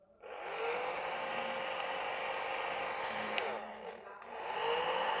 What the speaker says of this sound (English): the fan is rotating and it is working well